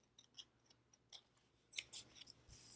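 Scissors snip through planner paper in a quiet room, a series of small crisp cuts that grow louder and denser toward the end.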